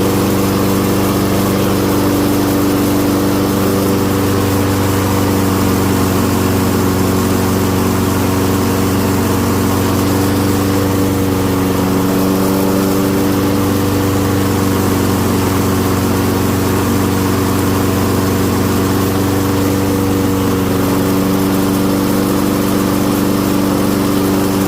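A Toro curbside-find lawn mower engine runs nonstop at a steady, loud drone with even low throbbing and no talk.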